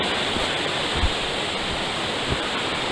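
Steady rushing of a small river flowing beside a hiking herd path, a continuous close wash of water with a couple of soft thumps, no talking.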